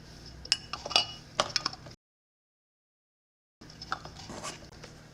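Metal canning lids set onto jars of dill pickles, a cluster of light metallic clinks and taps close by, a gap of silence, then a few more clinks, with no speech.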